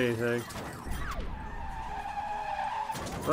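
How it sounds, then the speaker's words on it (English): In a racing video game, a car skids with a sustained tire squeal as it tumbles and crashes. A voice is heard briefly at the start and again at the end. "My car is tumbling and falling around."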